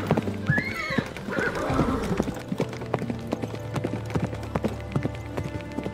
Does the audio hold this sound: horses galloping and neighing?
yes